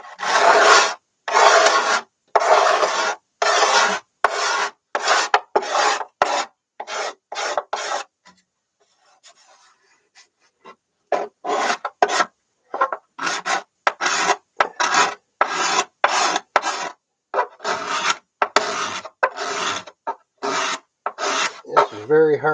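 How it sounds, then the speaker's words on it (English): Sharp hand scraper rasping dirt out of the hard wood of a Bohemian cello, close rhythmic strokes in quick bursts, with a short pause midway before the strokes resume. "Just kind of scraping out the dirt, making it nice and smooth."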